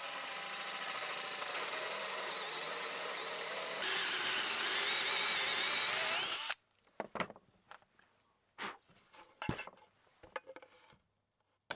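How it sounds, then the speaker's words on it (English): A 35mm Forstner bit drills holes freehand, producing a steady, loud whirring grind for about six seconds that brightens partway through, then stops and gives way to scattered clatter and handling knocks. "To drill the holes, I've got a 35mm Forstner bit, which I'm just doing freehand"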